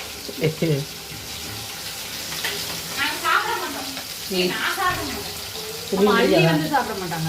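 Mackerel fish shallow frying in a pan crackles and sizzles steadily and up close, with bursts of louder spitting and stirring, while people talk over it.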